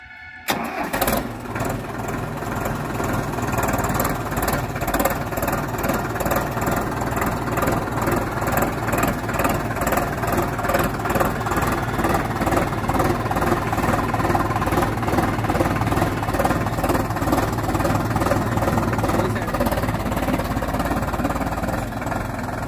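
A modified Sonalika DI tractor diesel engine cranks and catches, then settles into a steady, loud, close chugging run that holds for about twenty seconds without talk.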